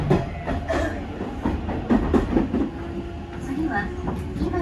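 Hanshin Railway train at a station on a high school baseball day: low, steady rumble of the carriage with a few light clicks and a faint squeal, heard from inside the car with a voice talking over it.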